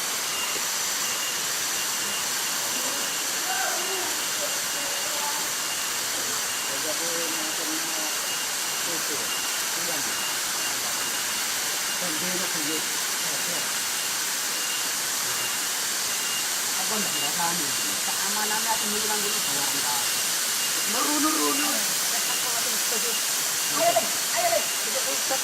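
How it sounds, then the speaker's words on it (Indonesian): Rushing water of the Cuban Cakung waterfall pours as a steady, broadband hiss throughout, and people talk quietly beneath the constant roar. "Air terjun Juban Cakung."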